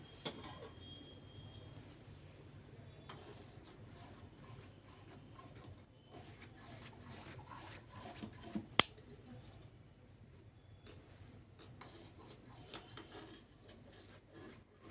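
Scissors snip and rub through blouse fabric during tailoring, quiet close cutting and sliding sounds with an occasional sharp click, no voice over them.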